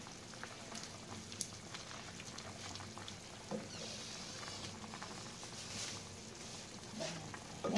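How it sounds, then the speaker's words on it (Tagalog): A pot of meatball and cabbage soup bubbles at a low, steady boil, faint and close, with soft popping bursts throughout. "kumukulo-kulo na ang ating meatball soup"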